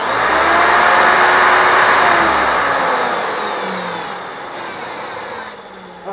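Motor of an electric pencil sharpener spinning steadily with a loud, even whir that slowly eases down toward the end.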